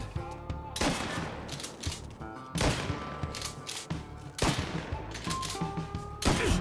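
Gunfire in Mafia III comes in several sharp, loud bursts of rapid shots separated by short gaps, each with a reverberant tail over a low ambient game background.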